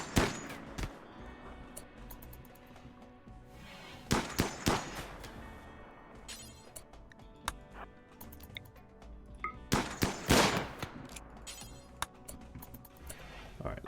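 Gunfire from colonists in a RimWorld battle: repeated sharp cracks arriving in scattered bursts and single shots, fairly loud against a steady game background with no talk.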